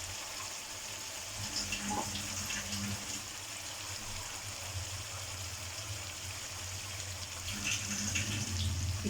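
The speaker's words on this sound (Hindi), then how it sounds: "इसमें मैं थोड़ा पानी डाल रही हूँ" Water poured into a pan of frying cabbage sabzi, a faint steady trickling and hiss over low kitchen background, fairly quiet and continuous.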